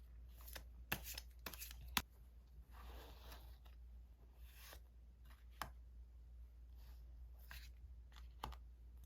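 Tarot cards drawn from a deck and laid out during a reading, giving soft papery rustles and a few sharp flicks and snaps, quiet and close, with no voices.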